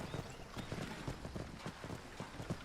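Horse hooves clip-clop at a steady trot while riding into the town of Falkreath in the video game Ultimate Skyrim, with a light wind-like background throughout.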